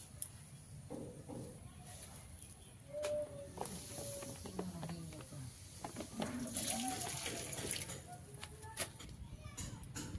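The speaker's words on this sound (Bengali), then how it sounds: "মাছটা গরম জলে সুন্দর করে ধুয়ে নেব" Fish being rinsed in warm water: soft, faint splashing and trickling, with birds calling in the background and a quiet voice now and then.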